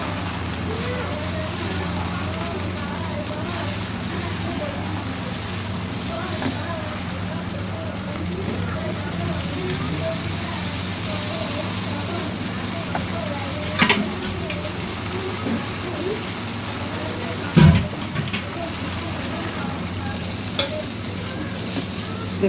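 Chicken curry with garam masala powder and a splash of water cooks in a covered pan, giving a steady, even sizzle and bubbling that runs throughout, with a voice faintly present at times.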